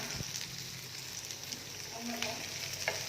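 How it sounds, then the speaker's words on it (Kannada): Vegetables for kadai paneer fry in a little oil, giving a soft, steady, low-level sizzle with occasional light stirring clicks. A faint voice sits in the background. "ಈಗ ಒಂಚೂರು ಎಣ್ಣೆಯಲ್ಲಿ ಇದನ್ನು ಫ್ರೈ ಮಾಡಬೇಕು."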